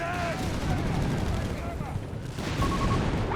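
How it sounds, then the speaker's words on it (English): Gunfire from a German Panther tank in the strategy game Company of Heroes 3, heard as a steady, dense run of shots and booms that carries on throughout alongside the battle noise. "A bit of shooting there from the Germans on the Panther 4 here."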